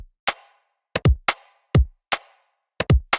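A punchy UK garage layered snare hit, combining rim click and clap, repeats in a sparse, syncopated pattern alongside deep kick thumps, dry and close, programmed in Ableton Live 11.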